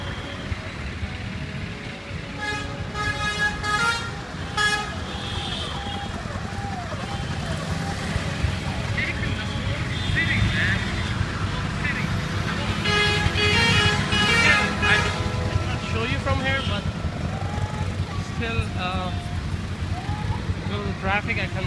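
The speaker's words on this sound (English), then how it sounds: "I cannot go further because of the traffic, but it's a long, long line." A long line of vehicles stuck in a traffic jam in Mount Abu during a city celebration, with a continuous engine drone, repeated car horn toots and busy street noise under someone talking.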